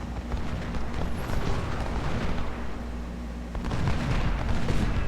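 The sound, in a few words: cannon volley in Ultimate General Civil War video game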